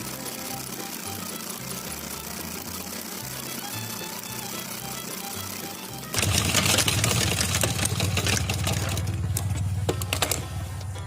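A sewing machine runs in uneven spurts at first, then hums fast and continuous for several seconds while double-stitching a petticoat seam, a loud, close mechanical rattle.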